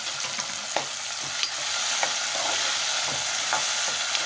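Tomato pieces, onions and ginger paste fry in tempering oil for a cauliflower curry, giving a constant close sizzle broken by sharp spoon taps and stirring clicks against the pan.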